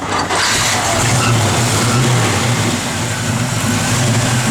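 A 1966 Chevrolet Chevelle SS with a 1966 block and a mild cam runs in a loud, steady idle. A deep rumble holds throughout with no break, and a faint belt squeak may sit within it.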